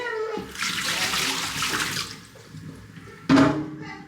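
Water running from a household tap, a broad steady rush that swells and fades over a few seconds, ending with a brief louder splash or clatter near the end; no talking.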